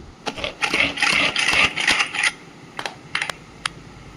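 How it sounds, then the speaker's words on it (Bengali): Capsicum, carrot and beans are chopped in a vegetable chopper: a burst of rapid, rattling clatter for about two seconds, then a few short separate clicks, loud and close. "কিছু সবজি চপারে চপ করে নেব"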